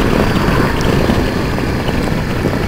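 Yamaha Drag Star 650 motorcycle being ridden, a steady, loud broadband engine and wind roar that stays constant throughout with no talking.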